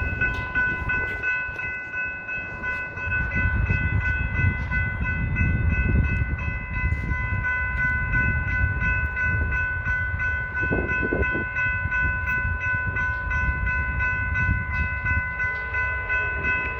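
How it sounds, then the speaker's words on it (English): An Amtrak California San Joaquin passenger train led by an F59PHI locomotive rumbles past at close range at McKinley Ave, Fresno, wheels clattering, while a sustained multi-tone horn sounds continuously over the roar. "here comes San Joaquin train 719"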